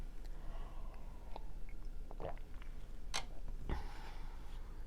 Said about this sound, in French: je vais prendre une gorgée